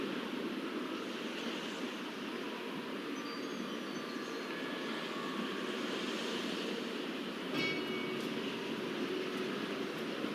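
Train pulling away in a Nancy Drew video game, heard as a steady broad rumbling wash with faint high squeals, continuous and fairly distant with no talk.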